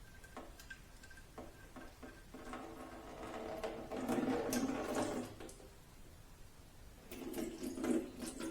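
Coolant trickles and splashes out of a Ducati Multistrada 1260S into a vessel, an irregular close pour with drips and small clinks that grows louder in the middle.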